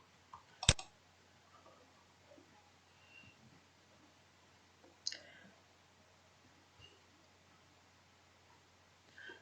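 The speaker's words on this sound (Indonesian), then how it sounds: "kita klik kanan, kemudian properties." Computer mouse clicks while right-clicking to open a properties menu: one sharp, close click stands out, then a second fainter click a few seconds later, with small ticks against a quiet background.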